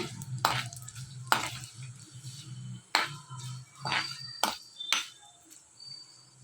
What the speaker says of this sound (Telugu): ఈ విధంగా మూత పెట్టుకోండి కరివేపాకు పేలుతుంది